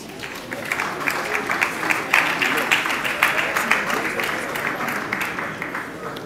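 A conference audience gives steady applause to welcome a speaker onstage at a Nigerian entertainment conference, with many hands clapping in a dense, moderately loud, sustained patter and a faint voice underneath.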